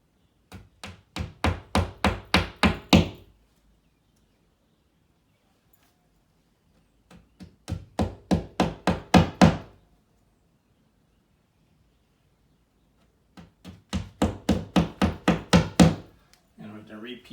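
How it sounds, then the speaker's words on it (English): Three bursts of rapid hammer taps driving wall anchors flush into holes, each a quick run of about ten sharp knocks, separated by short quiet pauses; close and fairly loud. "you're just going to take and tap them right in the hole. Take a hammer,"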